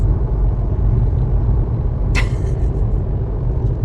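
Inside a moving car, a loud steady low road rumble and engine drone fill the cabin, with one brief hissing puff partway through.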